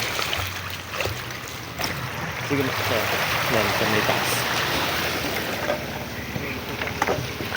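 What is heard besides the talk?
boat being boarded for a trip to White Beach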